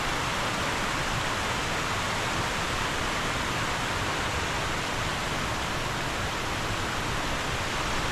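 Anakulam waterfall in Munnar, a deep waterfall at a view point, roars as a steady broadband rush of falling water that fills the scene at constant strength without a break.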